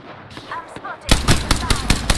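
Rapid gunfire from Apex Legends bursts in after a quiet second, a string of sharp, loud shots in quick succession with faint game chatter in the background.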